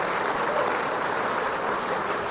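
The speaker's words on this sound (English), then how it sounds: "big round of applause for Anna because this is a Chamber of Commerce meeting" Applause from a business audience at a Chamber of Commerce meeting, a dense, even wash of many hands clapping at once, sustained and fairly loud with no break for the whole stretch.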